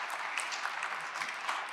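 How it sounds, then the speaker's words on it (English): Audience applause fills a room during a governor's broadband address, a steady, dense patter of many hands clapping at moderate level with no voices over it. "clap for that."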